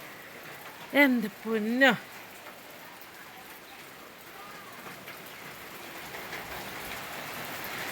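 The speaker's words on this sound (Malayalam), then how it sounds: "ഞാനും ഇരുന്നൊക്കെ മഴ ആസ്വദിക്കാം" Rain falls steadily on a small home garden, making a soft, continuous hiss of drops throughout. A person speaks briefly near the start.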